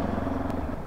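Engine drone of road traffic on the Star Tollway, trucks and motorcycles moving close by, a steady rumbling hum for under a second.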